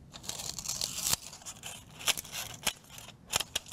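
Scissors snip through thin styrofoam plates while cutting flower petals for a craft, giving a few sharp, separate crisp cuts with light crinkling between them, close and fairly quiet.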